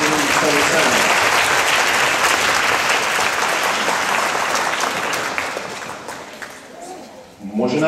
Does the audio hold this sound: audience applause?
yes